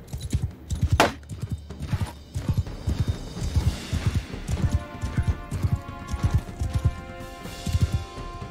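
Horse hooves gallop in a rapid, steady clip-clop rhythm, close and prominent, in Mount & Blade 2 Bannerlord, with a brief whinny early on and scattered game sounds in the background.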